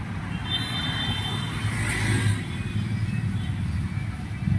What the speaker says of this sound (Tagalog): Wow. Traffic.